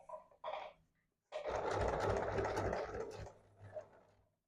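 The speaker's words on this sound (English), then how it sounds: "I'm just going to start here on one side, just lining up my machine right there" A sewing machine stitches a puffed sleeve seam, with a couple of brief stuttering starts, a pause, then a steady whirring run of a few seconds that slows and stops, close and quiet.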